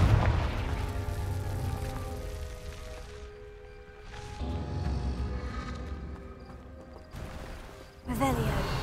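Confringo fire spell blasts in the Hogwarts Legacy video game on PS5, loud bursts and booms at the start and again near the end over busy game music, with speech heard in between.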